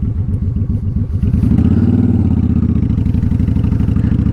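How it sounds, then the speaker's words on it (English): Honda Shadow motorcycle engine idling on a cold night with the choke pulled out, a steady close, loud low rumble that swells slightly around the middle and keeps an even thumping beat throughout. "we'll bring the Honda Shadow up here."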